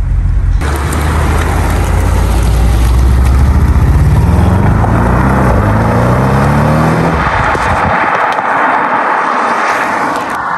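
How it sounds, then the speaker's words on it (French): Audi RS6 C7 with its factory sport exhaust and valves open, a loud engine roar building and sweeping as it accelerates past, then fading to a rumble near the end. "la C7 elle fait vraiment un bruit incroyable, même avec l'échappement sport d'origine"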